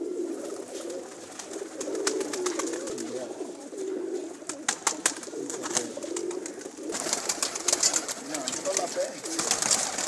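Pigeons coo continuously at a rooftop loft in a village, their soft low calls layered close by, with occasional flutters and a voice talking now and then.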